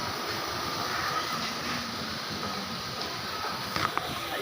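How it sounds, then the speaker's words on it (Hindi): Steady broadband whirring hum of an electric fan running continuously, fairly close, with no talking. "तो गाइस वो इस पंखे की आवाज़ें देखें।"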